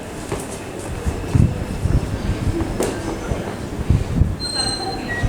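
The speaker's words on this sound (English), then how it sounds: "we've got a Class 7Z coming through." A Class 7Z train passes through Romford station on the Great Eastern Main Line, its wheels rumbling and clattering close by with high squeals from the rails.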